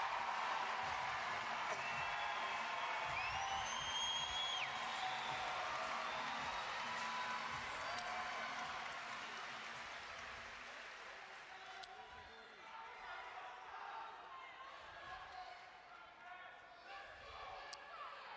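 A large arena crowd at the 2022 Commonwealth Games women's 59 kg weightlifting cheers and applauds a Nigerian lifter, a dense sustained roar that gradually fades toward quieter murmuring.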